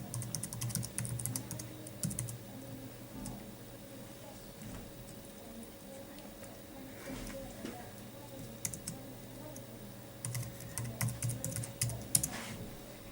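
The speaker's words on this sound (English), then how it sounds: "I'm just going to type in my details." Quiet keystrokes on a computer keyboard as account details are entered, with irregular bursts of clicks near the start and again toward the end over a low steady hum.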